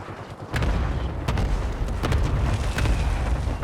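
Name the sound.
cluster strike explosions in a video game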